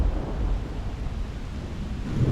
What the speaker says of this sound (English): I think we're in for another storm.